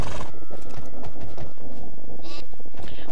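Horses in the online horse-breeding and racing game Alicia gallop with loud, rapid hoofbeats and give short neighs, thick with game audio and no clear talk.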